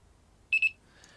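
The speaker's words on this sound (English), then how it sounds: "the 2 beeps means the calibration's finished." Two quick high electronic beeps from an Arduino buzzer on a wooden FPV quadcopter, back to back and fairly loud against a quiet background.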